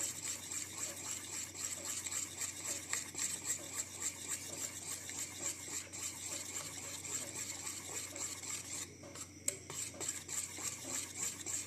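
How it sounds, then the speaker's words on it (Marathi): Gram flour batter for crisp bitter gourd fritters is whisked steadily in one direction in a bowl, a continuous close scraping and stirring with no talk. "एकाच दिशेने पीठ चांगलं फेटायचं"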